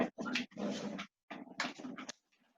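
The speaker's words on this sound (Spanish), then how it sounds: "había entrado mi perrito" A small pet dog indoors gives a few close, short bursts of whining and yipping, broken by brief pauses, then trails off into quiet.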